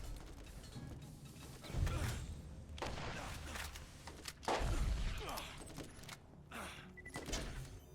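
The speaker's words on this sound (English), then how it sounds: "I'm just reloading my shotgun directly in front of you." Shotgun reload in the video game Borderlands: a run of close, sharp mechanical clacks and ratcheting clicks with a couple of heavier thumps spread across the span, set against a busy game backdrop.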